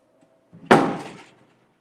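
A room door swings shut with a single sharp, close thud that rings briefly and fades within about half a second, with only quiet room tone before it.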